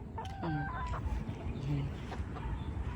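A yellow legged hatch chicken gives a few short, faint clucks over a low rumbling background.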